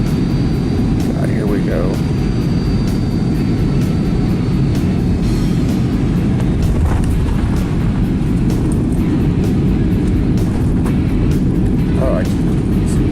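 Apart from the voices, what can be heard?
airplane landing hard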